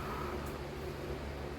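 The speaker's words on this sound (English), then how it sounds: "you can hear the fan in the background." An electric fan runs on a hot day inside a house, giving a steady, even broadband whir with a low hum beneath, constant in level throughout and heard alone.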